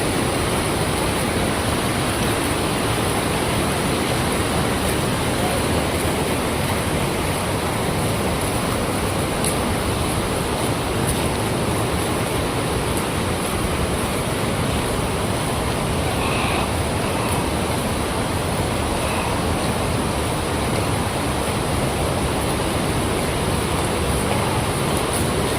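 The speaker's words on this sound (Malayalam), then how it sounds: "ഞാൻ കാണിച്ചു തരാൻ വേണ്ടി നിങ്ങൾക്ക് വെള്ളച്ചാട്ടം" A waterfall roars in a steady, dense rush of falling water that stays loud and unbroken throughout, with no voices.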